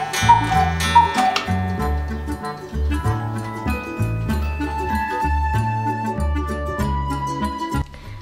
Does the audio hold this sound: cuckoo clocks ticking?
yes